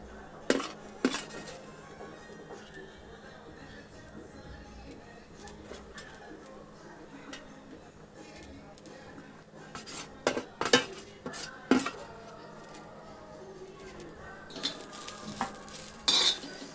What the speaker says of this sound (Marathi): खोबरं बस 2 ते 3 मिनटं भाजून घ्यायचं आहे